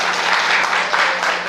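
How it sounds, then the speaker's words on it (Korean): Steady, dense applause from a church congregation, loud and continuous throughout without any voices standing out. "예, 박수."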